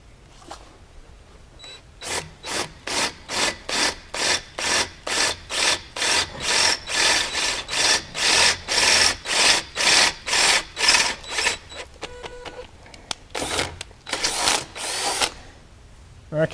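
Drill with an 11/32 bit bores through a UHMW plastic mount, giving a rapid run of rhythmic grinding, rasping bursts, close and fairly loud, that stutter and trail off near the end.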